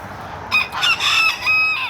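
A small Old English game rooster crows once, a high, strained cock-a-doodle-doo heard close and loud over faint background noise.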